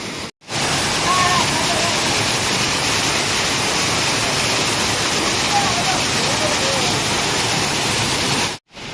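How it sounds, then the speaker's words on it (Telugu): Rani Duduma waterfall in Odisha roaring as a loud, continuous broadband rush of falling water, steady from start to end and heard close. "ఇదే వాటర్ ఫాల్"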